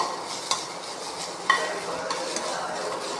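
Thoodhuvalai leaves roast in a pan for kuzhambu, giving a soft continuous sizzle with a few light clinks of stirring near the start and middle.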